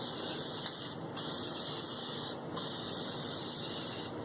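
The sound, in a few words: spray adhesive being sprayed from a can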